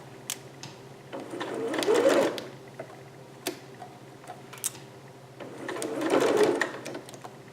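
A sewing machine stitches double seams on thick, slightly stretchy velvet, two steady whirring runs of stitching with a quiet pause between them and small clicks in the gap.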